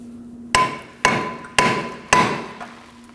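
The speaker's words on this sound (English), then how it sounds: "Grab a hammer, and we're gonna be tapping around this area to break it loose." Four sharp metallic hammer strikes on a 2011-2016 Kia Optima front brake rotor ring out at a steady, unhurried pace, close and loud, each leaving a short ringing decay over a low hum.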